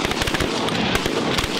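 Shotgun blasts ring out at geese during a youth waterfowl hunt, a rapid volley of loud, sharp reports in quick succession with no talking.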